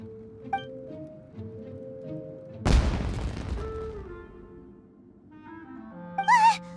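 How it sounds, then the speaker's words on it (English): A fireworks explosion in the video game Genshin Impact, a single loud booming burst with a crackling tail that fades over a few seconds, framed by soft game music and chiming effects. "Was that an explosion? It sounded like fireworks."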